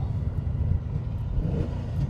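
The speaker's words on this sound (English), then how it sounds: "Got a glorious sound in the intake from the Weber carburetors." A 1978 Aston Martin V8 Vantage engine breathing through Weber carburetors, a deep steady intake roar from inside the car at speed, loud and continuous with slight rises in pitch.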